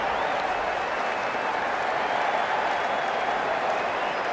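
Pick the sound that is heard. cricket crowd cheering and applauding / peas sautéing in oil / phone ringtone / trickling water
cricket crowd cheering and applauding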